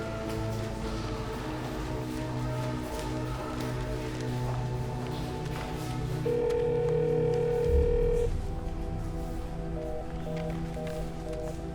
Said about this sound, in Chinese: 要不我给他打个电话吧